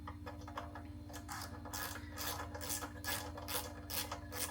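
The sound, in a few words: removing the last bolt from a pressure washer valve cover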